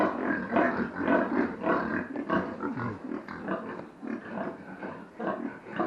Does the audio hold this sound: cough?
no